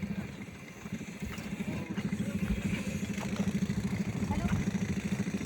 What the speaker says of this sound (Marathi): वर चालाय बघा ट्रॅक्टर